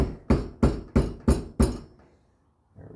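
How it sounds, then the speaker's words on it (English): A new axle seal is driven into a Yanmar 2420D tractor with five evenly spaced, sharp hammer blows, each ringing briefly before the next. Near silence follows, then a faint sound at the end. "just keep hammering until it's all down."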